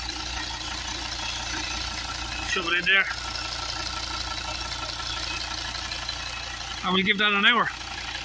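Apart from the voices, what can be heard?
car engine idling during HHO hydrogen carbon cleaning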